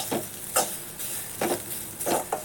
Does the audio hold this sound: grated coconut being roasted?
yes